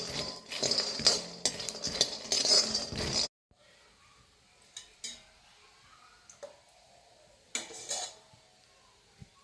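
Peanuts dry-roasting without oil in a pan on low heat, stirred with a utensil: busy rattling and clinking for a few seconds, then quiet with a few scattered scrapes and taps.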